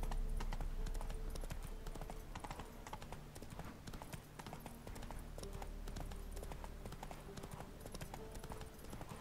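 A horse gallops cross-country in The Witcher 3 Wild Hunt, with rapid rhythmic hoofbeats over game music and ambience. A voice speaks faintly underneath.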